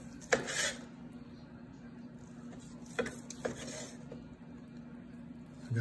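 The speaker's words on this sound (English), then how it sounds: "And as we start to slice everything else up" A knife slices through a medium-rare, reverse-seared bone-in ribeye, giving a few quiet clinks and taps against the board that are spaced out over a low, faint background.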